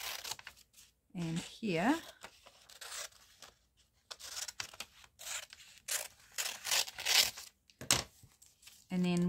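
Scissors roughly cut a strip from a glossy magazine page, giving a series of short crisp snips and paper rustles and crinkles, close and fairly quiet, with someone talking between the cuts.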